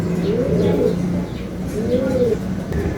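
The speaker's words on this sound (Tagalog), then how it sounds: "Ganyan dapat pag-obserba ng mga ibon." Caged pigeons or doves cooing softly in repeated rolling phrases, close by and fairly steady, with a faint background hum and occasional chirps.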